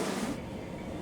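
Train riding through countryside hills near Takao Sanguchi Station, a steady close rumble and rattle from inside the car that softens slightly partway through, with no talk.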